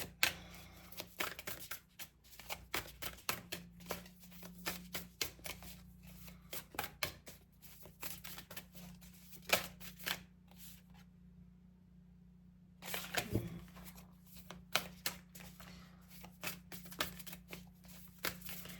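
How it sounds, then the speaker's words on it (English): Cards riffle and snap in repeated bursts, a deck being shuffled up close, with a brief pause partway before the shuffling resumes. "This is a tricky deck to shuffle"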